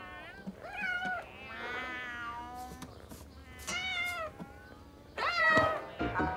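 Several cats meow repeatedly, with overlapping drawn-out cries and a shrill yowl near the end, fairly close and loud.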